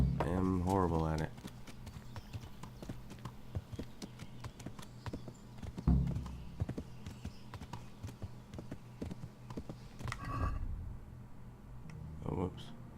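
Hooves clip-clop in quick rhythm as a horse is ridden in the medieval game Kingdom Come: Deliverance, fairly quiet with occasional heavier thuds, under someone talking and other game sounds.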